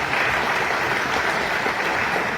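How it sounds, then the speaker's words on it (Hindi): An audience bursts into dense, steady clapping at a water business gathering. The applause is loud and close and carries on without a break. "जोरदार तालियां हो एक बारी"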